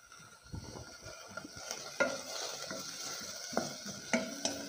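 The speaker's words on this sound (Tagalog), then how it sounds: "Igisa lang natin" Macaroni soup ingredients sautéing in butter in a pan, a steady soft sizzle broken by repeated stirring scrapes and utensil clicks against the cookware, close up and without talk.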